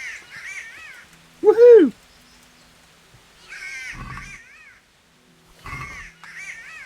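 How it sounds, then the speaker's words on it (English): Crow cawing in the medieval game Kingdom Come: Deliverance: several harsh, repeated caws in short bursts, loud and near, with one brief excited vocal exclamation mixed in. "Wish that bird would shut up."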